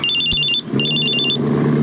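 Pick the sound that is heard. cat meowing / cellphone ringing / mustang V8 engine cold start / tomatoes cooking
cellphone ringing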